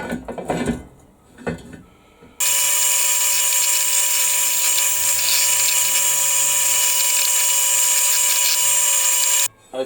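An angle grinder whines loudly and continuously against a steel Rostyle wheel during restoration, a piercing high-pitched grind held for several seconds after some brief handling knocks, then cutting off abruptly.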